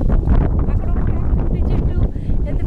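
Strong wind gusting across an open farm field in a village, roaring and buffeting the microphone in loud, uneven surges that stay almost constant.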